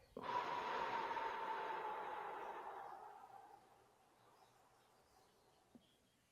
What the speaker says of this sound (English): and we'll exhale slowly for 8.